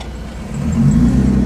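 Close, loud engine of a Lexus IS300 pulling hard under acceleration, its deep drone rising in pitch and volume through the pull, with no voices over it.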